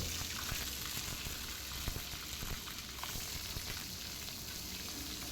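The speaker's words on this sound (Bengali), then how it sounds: "কড়াই তেল দিয়ে দিচ্ছি তেল থেকে ধোঁয়া উঠে এলে দিয়ে দিচ্ছি মাছের মাথাগুলো" Hilsa fish heads frying in smoking-hot oil in a wok give a steady, dense crackling sizzle throughout, close and continuous with scattered pops and no voices.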